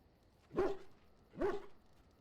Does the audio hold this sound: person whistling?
no